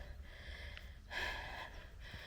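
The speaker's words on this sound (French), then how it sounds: "Eh bien, je suis essoufflée." Heavy, breathless panting from a woman just after climbing a short, steep uphill trail on a hike, a few close gasping breaths with one stronger exhale in the middle, with no talk.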